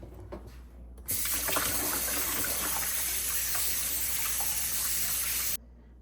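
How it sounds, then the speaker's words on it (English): Running tap water gushing into a sink while raw lamb meat is washed for a Jamaican lamb recipe, a steady loud rush that starts abruptly, lasts several seconds and cuts off sharply. "I'm going to wash it real quickly. Don't want it to sit too long in the water."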